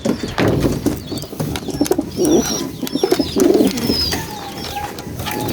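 Racing pigeons coo repeatedly in soft, low, throaty bursts close by, with occasional chirps and wing flutters in a busy loft setting.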